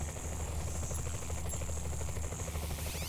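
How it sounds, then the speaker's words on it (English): A helicopter flies in the video game Saints Row: The Third, its rotor making a dense, steady, loud chopping drone throughout with a buzzing hiss layered on top and no talk. "Hey, this helicopter's doing pretty good."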